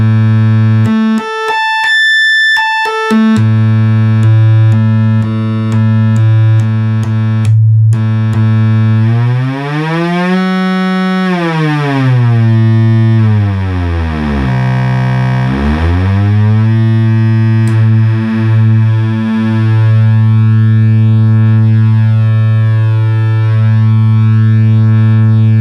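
A restored Minimoog synthesizer plays its oscillator 3 as a loud, bright, sustained buzzy tone, with brief blips at the start, then slow gliding pitch sweeps up and down before settling on a steady note.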